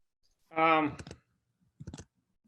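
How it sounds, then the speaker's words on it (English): Typing on a computer keyboard during an online meeting. A short voice is followed by two quiet, close bursts of rapid key clicks separated by a pause. "I'll just be typing on the specific document for this one"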